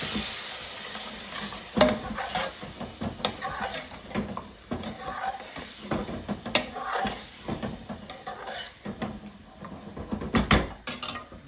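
Lamb chilli masala with base gravy sizzling in a pan as it is stirred, giving a continuous frying hiss with repeated scraping and clanking of a utensil against the metal and no talking.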